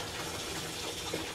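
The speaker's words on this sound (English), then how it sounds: "You hear water running, and that's because I have the machine on." Water gushes steadily into a Whirlpool washing machine that is running, a continuous hiss of filling water close by with no talking.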